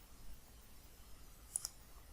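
A computer mouse gives two quick, faint clicks in close succession against a quiet background.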